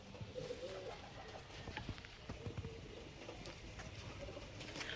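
Pigeons in a loft, including a cock bird, give low soft coos and wing flutters amid shuffling and scattered clatter, with someone talking faintly nearby.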